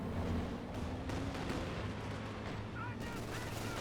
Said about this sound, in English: Katyusha barrage coming on in